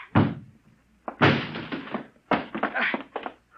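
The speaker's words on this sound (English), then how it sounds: "Break down the door" Several heavy thuds and crashes in quick bursts, like a door being battered and forced open, loud and close with scattered clattering.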